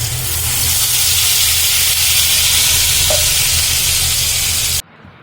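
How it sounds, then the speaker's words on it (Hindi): Red chutney of garlic, red chilli, tomato and salt frying in hot oil, a loud, steady close-up sizzle and hiss that cuts off abruptly near the end. "और मैंने तेल इसमें डाल दिया है और मैं ये चटनी डाल दूंगी इसके अंदर।"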